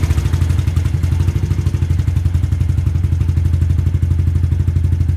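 A Honda ADV 160 scooter engine idles outdoors at night while warming up, giving a steady, close, low rhythmic putter with fine mechanical clatter throughout and no voices.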